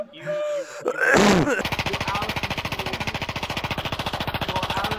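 Rapid automatic gunfire in the VRChat video game, a long steady burst of evenly spaced shots that runs loud for several seconds after a brief moment of voices and a short noisy blast.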